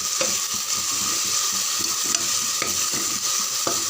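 Mint, coriander and curry leaves sauté in oil for biryani, stirred with a spoon that gives regular scraping strokes. A bright, constant sizzle runs underneath, and no one speaks.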